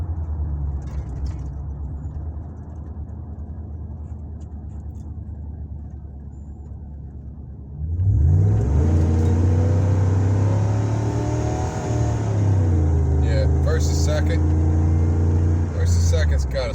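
A Ford vehicle with a rebuilt 4R100 transmission idles, then pulls away with a rising engine note that drops back as gears shift, while people talk over the steady cabin hum.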